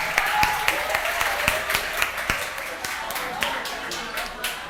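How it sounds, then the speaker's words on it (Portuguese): Applause from classmates in an animation school classroom, a patter of scattered claps and taps running steadily for several seconds over a murmuring room, fairly close and moderately loud. "Palmas pros amigos."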